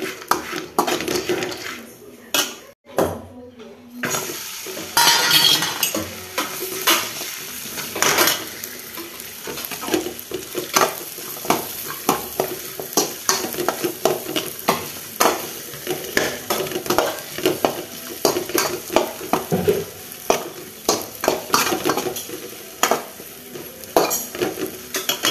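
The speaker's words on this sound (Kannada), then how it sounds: "ಹಾಗೆ ನಾನು ಇದಕ್ಕೆ ಗಸಗಸೆ ಆ್ಯಡ್ ಮಾಡ್ಕೊತಾ ಇದ್ದೀನಿ. ಇನ್ನೂ ನೀಟಾಗಿ ಒಂದು 2 ಸೆಕೆಂಡ್ಸ್ ಫ್ರೈ ಮಾಡ್ಕೊಳ್ಳಿ." Poppy seeds frying in a pan for a dry fruits laddu, with a spoon scraping and clattering against the metal in a busy, irregular rhythm over a soft, steady sizzle, all close and fairly loud.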